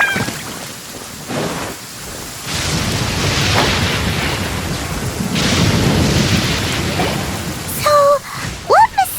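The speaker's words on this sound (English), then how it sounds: "You hear thunder?" Thunderstorm with rain in Genshin Impact: rolling thunder swells over steady rain noise in long, loud waves, with a few short tonal sounds near the end.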